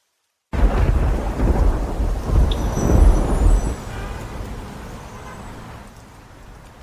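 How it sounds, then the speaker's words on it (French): Heavy rain pours down in surging gusts with a deep rumble of thunder, loud at first and gradually easing off. "Dehors, la pluie tombe en bourrasque."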